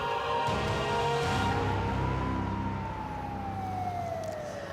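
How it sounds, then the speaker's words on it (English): Civil defense nuclear attack warning siren sounding during a drill in Hawaii: a loud, sustained wailing tone that climbs and then slowly falls in pitch, steady and continuous throughout with no talk. "Now, this is a siren sound."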